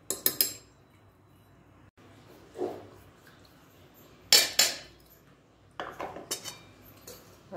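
Coriander powder and turmeric are mixed in a bowl with a spoon or utensil, giving a few sharp metallic clinks and scrapes in scattered bursts against a quiet background.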